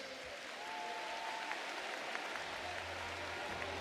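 At a formal ceremony in Côte d'Ivoire, an audience applauds by acclamation, with faint, distant clapping that rises slightly and continues steadily under a low background hum.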